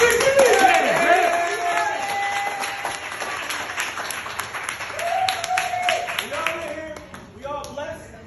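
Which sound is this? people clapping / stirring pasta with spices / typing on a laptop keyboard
people clapping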